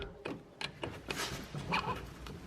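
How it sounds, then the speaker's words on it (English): A dog whimpers and yips in short, scattered bursts against a quiet background of faint noise. "Pet the dog."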